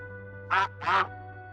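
Two quick duck quacks from the video game Surviving the Aftermath, close and clear, spaced about a third of a second apart over a steady low game hum.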